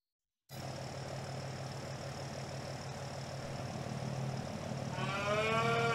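Angus calves mooing inside a farming video game, a continuous steady mooing drone over an engine-like hum, with a brighter warbling tone swelling in near the end.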